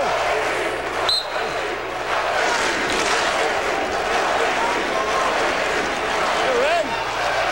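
Crowd roar at the 2005 NCAA Division I wrestling finals, a sustained loud wash of cheering from an orange-clad arena audience, with a commentator speaking over it and a whistle-like tone.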